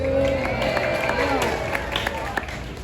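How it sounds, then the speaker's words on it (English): Audience at an animal show at Animal Kingdom cheering and applauding, a dense crowd roar with scattered claps and whoops, loud and continuous throughout, with voices mixed in. "Roaring applause."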